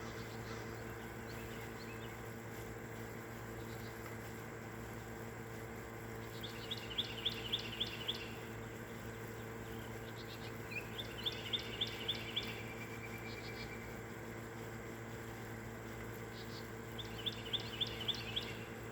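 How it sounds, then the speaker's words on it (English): Birds sing at a distance on a quiet morning, short repeated trilling phrases coming every few seconds over a steady hum of insects and background noise. "Sounds like a bunch of different birds. Maybe 3 or 4 kinds."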